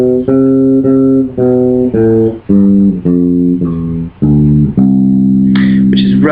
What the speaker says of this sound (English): basically the major scale should sound like this